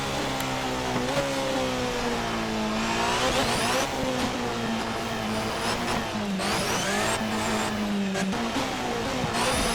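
A race car laps the Nordschleife near Wehrseifen in Assetto Corsa, its engine droning continuously with rising and falling revs through gear changes, loud and steady with faint tire noise.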